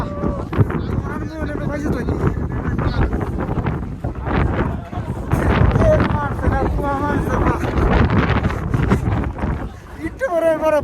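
Gusty wind buffets the microphone with a steady low rumble, running under nearly continuous talking from people close by.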